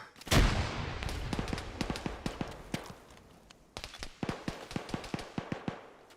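A frag grenade bursts loudly and close in a military shooter game, followed by a long run of sharp gunfire cracks and distant blasts, some in quick bunches, with a voice briefly heard.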